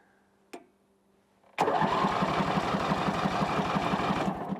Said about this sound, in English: I want to test that starter just to verify that it works now. So let's see if it'll at least spin.